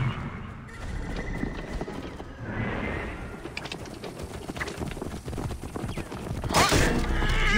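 Galloping horse hooves from Assassin's Creed Origins run as a steady rapid clatter through the whole stretch, mixed with game ambience and a brief brighter burst near the end.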